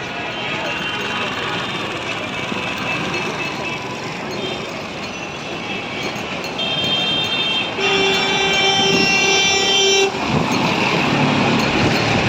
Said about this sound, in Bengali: দেখো এটা হচ্ছে কি শিয়ালদা মেট্রো